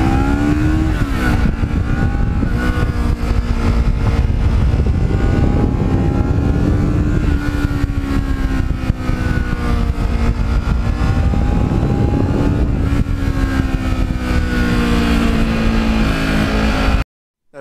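A black Kawasaki Ninja motorcycle rides along at a steady cruise, its engine droning loudly and continuously with slight pitch rises and falls as it accelerates, heavy wind rush mixed in, cutting off abruptly at the end.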